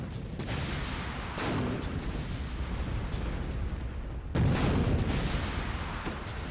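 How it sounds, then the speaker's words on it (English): Airstrike explosions in the Empires Source mod video game: heavy, booming blasts roll in one after another over a steady rumbling battlefield din, with one especially loud, close impact near the end. "I should be able to call in airstrikes."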